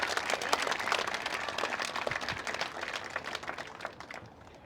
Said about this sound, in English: round of applause to our veterans and first responders